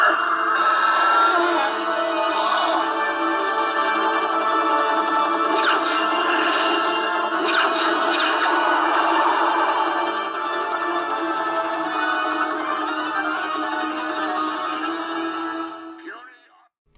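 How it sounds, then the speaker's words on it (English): Symphonic synthesized organ music plays continuously, dense bright sustained chords with busy tonal layers, at moderate level, fading out abruptly at the end. "it's a synthesized organ sound"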